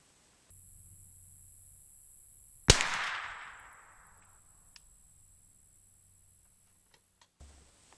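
A Remington 597 .22 rifle with a synthetic stock fires a single sharp crack at a target, loud and close, then rings away over a few seconds, with faint clicks and handling noise afterward.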